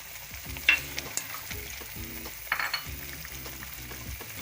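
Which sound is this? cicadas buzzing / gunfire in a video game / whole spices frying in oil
whole spices frying in oil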